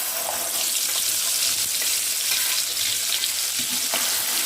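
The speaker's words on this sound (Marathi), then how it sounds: "तेल छान गरम झालेलं आहे तर ह्या मसाला यात मी घालते आता" Masala frying in hot oil in a kadhai makes a continuous, fairly loud sizzle with faint stirring, and nobody speaks.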